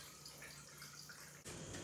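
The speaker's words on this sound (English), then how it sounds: "I'm just going to pour the broth" Bone broth pours from a container into a blender in a soft, faint continuous liquid stream, stopping briefly before a louder splashing rush near the end.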